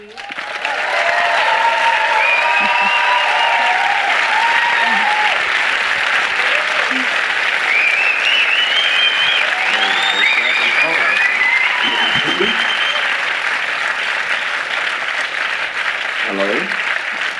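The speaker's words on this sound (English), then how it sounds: "It's like 300 people Clapping you." A large crowd of about 300 people claps continuously for a long stretch, loud and dense, while faint voices sound through the applause.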